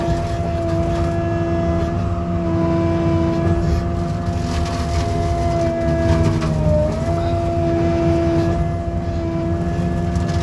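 A CAT 309 excavator drives a Bush Master brush cutter. The diesel engine drones steadily and loudly, with the pitch dipping briefly partway through as the load increases before it recovers.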